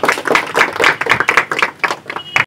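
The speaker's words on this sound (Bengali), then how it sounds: "জোরে হাততালি।" Loud, dense applause from a student gathering honouring relief work for cyclone-hit people in the Sundarbans. Rapid overlapping claps sound close and continuous for a couple of seconds.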